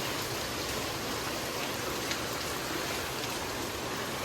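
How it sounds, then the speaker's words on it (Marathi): Heavy monsoon rain pours in a constant, dense hiss with occasional sharper drops, steady and enveloping throughout, with no voices. "आज खूपच जास्त पाऊस आहे, अनलिमिटेड."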